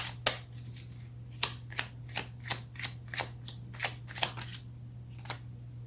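Tarot cards being shuffled by hand, about a dozen crisp riffling bursts at an irregular but steady pace, close and clear over a constant low electrical hum, with no talking.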